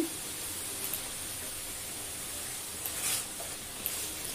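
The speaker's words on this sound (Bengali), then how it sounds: "এখানে আলু, পেঁয়াজ, মশলা কষানো হচ্ছে।" Potatoes, onions and spices sautéing in a pan over medium heat, a steady even hiss of frying with a few faint stirring clicks, quiet and continuous, with no voices.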